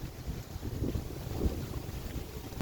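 Wind buffets the microphone beside a parking lot near a shop: a steady low rumble of gusts, swelling slightly in the middle and holding at a constant moderate level, with no voices.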